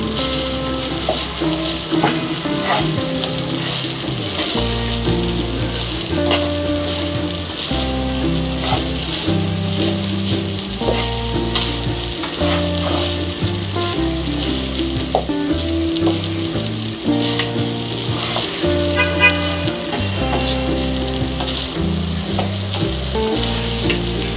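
Chicken fried rice with vegetables sizzling loudly in a pan as it is tossed and mixed, a constant close frying crackle broken by rhythmic wooden scraping and clatter of the stirring.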